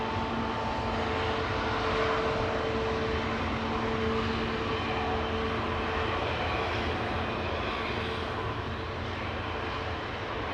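A four-year-old Airbus A350-1000 airliner at Amsterdam Schiphol Airport gives a continuous, moderately distant engine rumble and whine with faint steady tones riding over it, holding level throughout.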